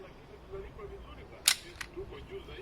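A Nissan Dualis (Qashqai) tailgate electronic lock latch releases with one sharp, quiet click, followed by a fainter second click a moment later, against a low background hum.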